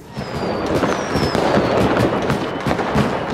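Festival fireworks burst in a dense, continuous crackle, with whistling rockets streaking upward and rapid pops overlapping at steady loudness throughout.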